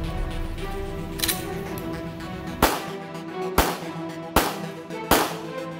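A pistol drawn from a bag holster fires four sharp, loud shots at roughly even intervals, each a crisp crack with a short ringing tail. Fainter clicks and pops come before the shots.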